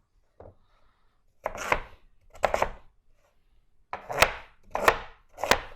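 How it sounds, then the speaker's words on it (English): A knife chops sweet potatoes into cubes on a cutting board: six sharp knocks, a light one followed by two quick pairs, a pause, then three firm strikes in a row, heard close with no speech. "cube them up into about 1-inch chunks"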